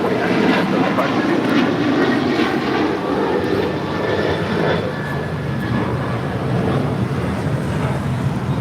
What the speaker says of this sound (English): This is Delta Airlines 449 taking off to Nashville on a 737-900 ER